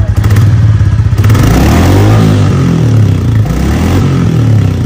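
A Royal Enfield Standard 350 motorcycle starts up, and its exhaust settles into a loud, close, thumping single-cylinder idle with a rapid, even low pulse that carries on throughout.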